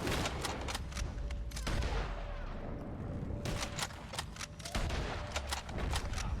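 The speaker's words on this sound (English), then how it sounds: "Firing!" Dense video-game gunfire, with rapid bursts of loud automatic shots close by, a brief lull in the middle, then more bursts over a faint steady tone and rumble.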